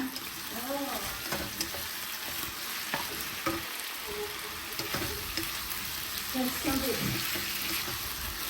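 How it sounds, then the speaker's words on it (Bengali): Marinated beef frying in a pan together with onion and carrot, giving a continuous sizzle with stirring scrapes while people talk nearby in a home kitchen. "অনিয়ন, ক্যারট সব একসাথে দিয়ে দিব, ঠিক আছে? সব একসাথে ভাজা ভাজা হয়ে যাবে"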